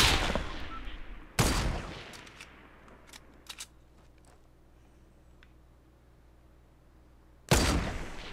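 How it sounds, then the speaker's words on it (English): Sniper fire in the Fortnite video game: two loud, sharp shots several seconds apart, each with a bright echoing tail, and a few fainter clicks and game noises in between. "You're getting sniped by Bush."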